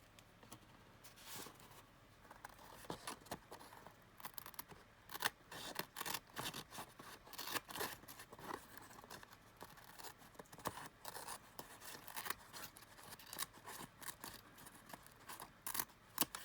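Scissors snip repeatedly through a paper journal cover, a steady series of close, crisp cuts with short pauses between them and no talking.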